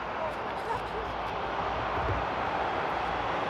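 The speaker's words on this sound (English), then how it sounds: "by the sound of it, I hear a 777 behind me" A Boeing 777 engine roars at Frankfurt Airport at sunset, a broad, steady rumble from a distance that fills the air beneath a talking voice.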